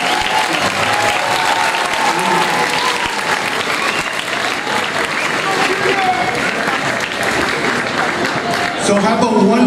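Loud, sustained audience applause fills a school winter music concert: a thick, even wash of many hands clapping without letup, honoring Mr. Rodriguez.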